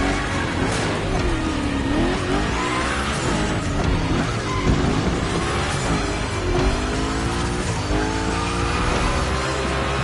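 A car sliding through gymkhana training in The Crew Motorfest, with continuous loud tire squeal and a revving engine rising and falling through repeated big slides, close and dense for the whole stretch.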